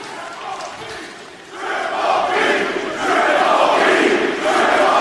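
A wrestling arena crowd roars and cheers, starting as a moderate murmur, dipping briefly, then swelling into a loud, sustained wall of voices that holds to the end.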